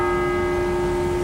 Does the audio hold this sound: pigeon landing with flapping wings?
no